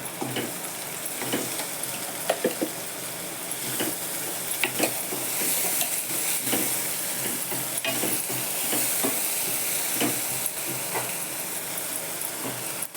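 Ground masala paste fries in a pan for a cashew masala, a dense continuous sizzle with repeated scraping stirs and clicks of the spoon, no talking.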